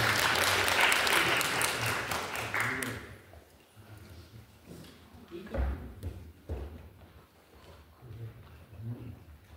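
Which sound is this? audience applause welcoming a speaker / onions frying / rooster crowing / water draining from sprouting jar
audience applause welcoming a speaker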